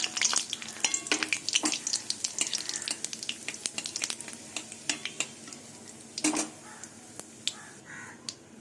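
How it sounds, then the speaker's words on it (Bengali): Cumin seeds, a bay leaf and a dried chilli hit hot oil in a pan, sharp spitting crackles and sizzling pops bursting irregularly, with occasional clinks of a utensil against the pan. "এবার ফোড়নে দিয়ে দেবো জিরে তেজপাতা একটা শুকনো লঙ্কা"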